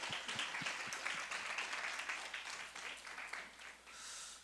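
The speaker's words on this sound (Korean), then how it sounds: "우리가 박수로 하나님께 영광 크게 돌렸으면 좋겠습니다" A church youth service congregation applauds, a sustained crowd clapping heard at some distance, with a few distinct nearer claps early on, tapering off toward the end.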